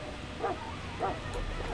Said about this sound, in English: So let's deal with this first, the dog.